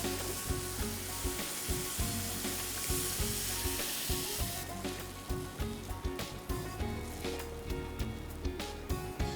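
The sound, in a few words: dal added to cooked tomatoes in a pan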